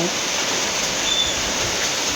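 In a pig pen, downpouring rain and splashing water make a continuous, thick rushing hiss, close and even, with faint low thumps underneath.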